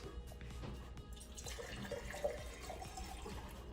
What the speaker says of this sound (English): So I'm pouring into the first glass.